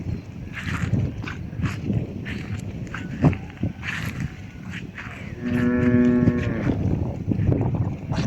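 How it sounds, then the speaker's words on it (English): Cows on a farm in El Salvador, several low moos rising near the end with a long, drawn-out bellow, over shuffling hooves and other farmyard noise. "There's the cows."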